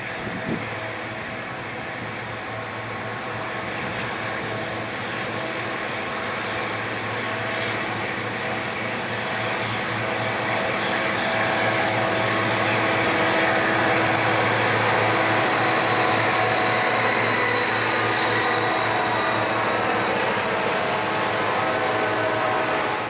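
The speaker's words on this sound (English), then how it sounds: "An eastbound Santa Fe freight exits Tunnel 10 and approaches the west end of the siding at Marcel." Eastbound Santa Fe freight train emerging from Tunnel 10 near the siding at Marcel on the Tehachapi line, a loud continuous engine rumble and drone that builds gradually and holds steady, with no talk.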